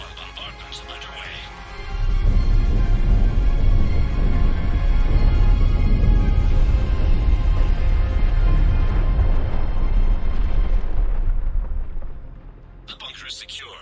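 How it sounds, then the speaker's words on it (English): Neutron bombardment in Mass Effect 3 hits as a sustained, loud, deep rumbling roar that swells in after a short pause, holds steady for about ten seconds, then fades away. "Neutron bombardment's underway."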